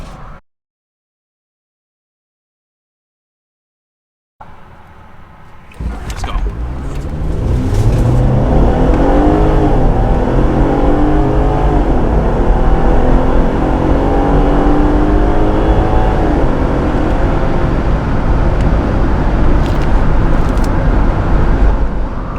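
A 2022 Jeep Wrangler accelerates hard after a few seconds of silence, its engine rising into a loud, sustained roar mixed with wind and road noise that holds steady to the end.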